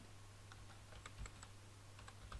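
Keys click in quick, irregular bursts as someone types on a computer keyboard, faint and close with no talk.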